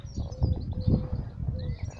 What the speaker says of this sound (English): Don't know if you can hear that bird cooing away.